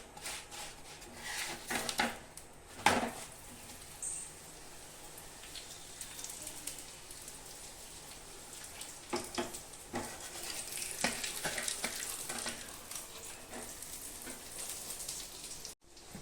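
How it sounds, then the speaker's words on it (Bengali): Dal puri frying in white oil, a soft, continuous crackling sizzle like light rain, with occasional louder spatula taps and splashes scattered through it, no talking. "এভাবে সাদা তেল দিয়ে ভেজে নেব।"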